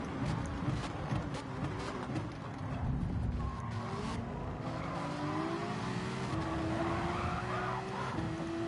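Ferrari GT3 race car losing grip at Fuji in Gran Turismo 7, with a long wavering tire squeal over steady engine drone and other cars nearby, continuous and fairly loud.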